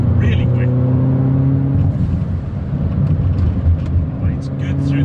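A 400bhp R56 Mini pulling hard on a road drive, recorded from inside the car: a loud, sustained engine drone with a steady pitch under a speaking voice, then a rougher roar with intermittent clicks.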